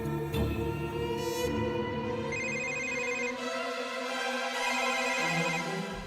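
A telephone rings in a home drama scene, a repeated electronic ringtone pattern sounding steadily and fairly loud throughout, with music-like tones and no talk.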